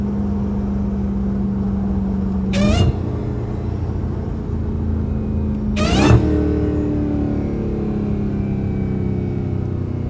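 A Dodge Hellcat engine idles and rumbles steadily, with two sharp revving bursts that rise into a high supercharger whine before settling back.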